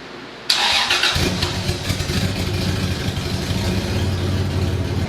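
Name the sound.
car engine starting and running with exhaust leaks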